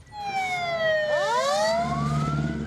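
Emergency rescue truck sirens wail at a port fuel storage tank fire, a loud, close siren sweeping down then rising again over low engine rumble.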